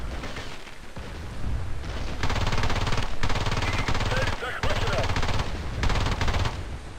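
Automatic gunfire from an engineer-class weapon in the online shooter Battlefield Play4free, loud, close rapid bursts that run almost continuously for seven seconds with brief pauses between strings of shots.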